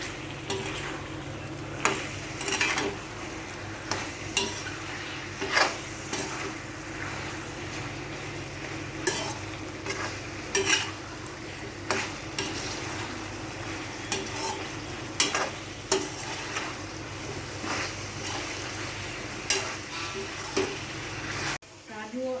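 Chicken Mughlai masala frying in a pan, a continuous close sizzle with a low steady hum and repeated sharp scraping and clinking as the mixture is stirred; a voice talks intermittently over it.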